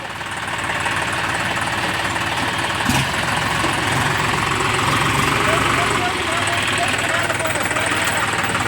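A tractor engine idles steadily with a low, rough, continuous rumble, close and loud, while people talk over it.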